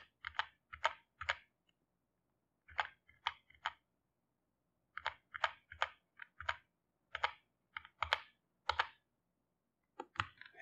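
Keys being pressed on a computer keyboard in short bursts of quick clicks, close and crisp, separated by brief pauses, with no speech over them.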